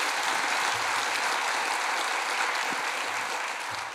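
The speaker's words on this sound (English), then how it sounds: "Give them a huge round of applause" Audience applause at an energy conference, a steady wash of many hands clapping at moderate volume, even and unbroken for the whole few seconds with a slight tapering at the close.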